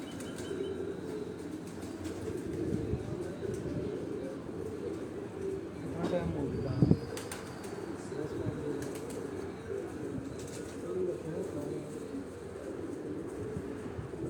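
Pigeons on a rooftop in Rawat, heard as soft cooing and a burst of wing flapping over a steady outdoor background, moderately close, with people talking at times.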